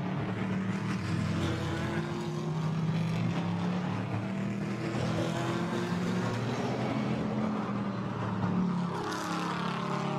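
GT4 race cars, Porsche Caymans and BMWs, roar around the Zandvoort circuit as a continuous engine drone with shifting pitch from the passing cars, heard at a moderate distance.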